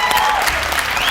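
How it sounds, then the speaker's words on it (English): Studio audience applause rings out loud and close in a brief, dense burst of many clapping hands, with a faint tone running beneath it. "A round of applause."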